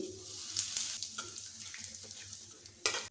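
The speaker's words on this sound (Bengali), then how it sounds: "তেলটা গরম হলে দিচ্ছি দুটো শুকনো লঙ্কা ফোড়ন দিচ্ছি একটু গরম মশলা ফোড়ন" Dried red chillies, garam masala, cumin seeds, fenugreek and asafoetida sizzle steadily in hot oil while cooking kachori filling, a continuous close frying hiss broken by a few sharp crackles and a louder pop near the end.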